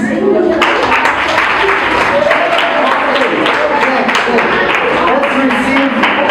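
Schoolchildren at a nursery and primary boarding school clap their hands for a medal winner, a loud continuous patter of applause with voices mixed in throughout.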